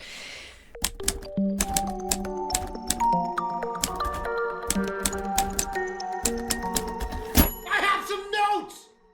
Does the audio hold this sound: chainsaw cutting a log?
no